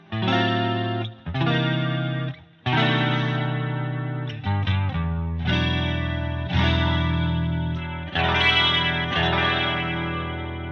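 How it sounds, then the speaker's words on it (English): Boss CE-20 chorus pedal on its bass setting, emulating a CE-2, shimmers over sustained guitar chords with a lush, wavering modulation, each chord ringing out and fading before the next is struck. "this next one is for bass, which I'm assuming is an emulation of the CE2"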